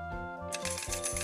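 A shower of coins drops from a car wash coin machine, one sharp metallic clatter followed by ringing jingles as the coins settle, heard alone.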